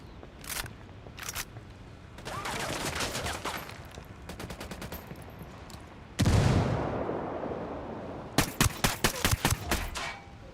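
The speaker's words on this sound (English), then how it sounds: "Grenade, move." Gunfire crackles in sharp bursts and single shots within a Ghost Recon Wildlands firefight, a grenade blast booming heavily midway, followed by rapid volleys of loud reports.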